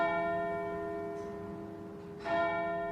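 Clock bells ring out in a resonant, sustained chime, with one fresh strike landing late over the lingering hum of the previous tone, heard at moderate distance.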